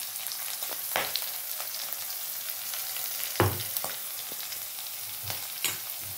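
Kule greens sizzle and fry steadily in a pan as they are stirred, a continuous hiss broken by several sharp utensil knocks and scrapes, close up and with no voices.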